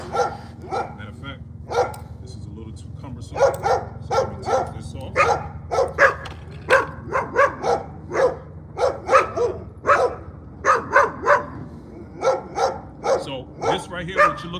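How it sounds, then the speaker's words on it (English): A black Labrador puppy barks repeatedly in short high yips and bow-wows, close and loud, coming in irregular bursts over a low background hum. "That's a puppy you hear barking, right?"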